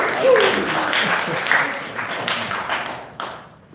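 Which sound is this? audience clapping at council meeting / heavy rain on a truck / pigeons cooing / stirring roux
audience clapping at council meeting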